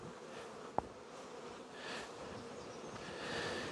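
Honey bees hum steadily around a brood frame of emerging brood above a queen excluder, a soft continuous drone with one brief sharp click partway through.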